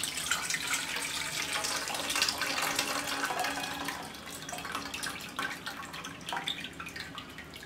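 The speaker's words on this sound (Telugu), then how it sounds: "తిప్పి మనం ఈ నీటిని ఒక గిన్నెలోకి వడకట్టుకుందాం." Starchy water from boiled millet noodles is poured through a strainer into a bowl, a continuous close splashing pour that eases off and drips toward the end.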